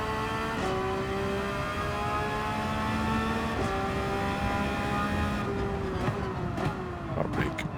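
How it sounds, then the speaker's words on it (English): A Porsche 911 GT3 R (992) race car from Gran Turismo 7 revs hard with a loud, continuous engine note, rising in pitch through each gear and dropping sharply at several upshifts, with brief rough bursts near the end. "noise of this car, awesome. As with all the race cars."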